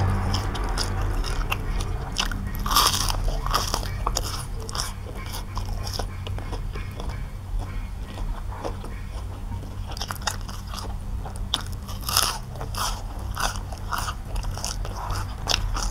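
Repeated crunchy bites and chewing of deep-fried red sausage, crisp outside and soft inside, eaten with cucumber and basil, close and steady throughout with no talking.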